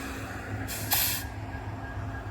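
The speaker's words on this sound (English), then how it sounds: "You hear the brakes though, folks." Air brakes on a CN freight train switching in Pembine let out a single loud hiss lasting about half a second, over a low steady idling rumble.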